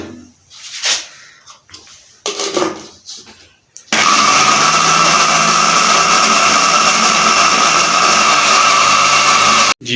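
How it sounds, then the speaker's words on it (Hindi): Sugar for a dry-fruits cake is ground in a kitchen grinder: after a few bumps and handling noises, a loud, steady high-pitched whirring grind runs continuously for about six seconds before cutting off. "अभी हम जो चीनी बच गई है उसको भी हम ग्राइंडर में डालेंगे।"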